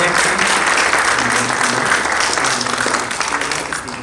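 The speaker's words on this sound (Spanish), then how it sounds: "un aplauso muy fuerte" Applause from an audience at a public event on the environmental impact of industrial limestone extraction, steady, dense clapping filling the whole stretch and easing off slightly near the end.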